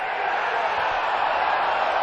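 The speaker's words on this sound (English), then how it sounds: "Fans start their staccato applause again" Baseball stadium crowd at an NCAA tournament game between TCU and Arkansas, a steady dense wash of fan noise and scattered clapping, fairly distant and even throughout, with no distinct staccato beat standing out.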